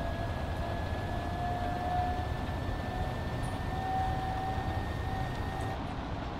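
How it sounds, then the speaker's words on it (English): A train in the TWS train simulator game accelerates with a steady mechanical rumble, a rising tonal whine and a faint hum running throughout, with no talk. "as you hear the train speed up"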